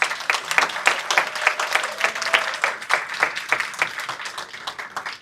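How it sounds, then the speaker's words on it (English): Audience applause at a Fiesta Amistad kick-off party for the newly crowned Mr. and Mrs. Fiesta de Amistad, steady dense clapping from a room full of people sustained for several seconds at moderate level. "Please give them a round of applause."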